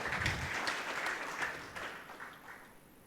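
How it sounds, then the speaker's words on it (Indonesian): A church congregation claps during an online worship service, a lively burst of applause that gradually thins and fades toward the end. "Yang setuju berikan tepuk tangan meriah buat Tuhan kita, saudara."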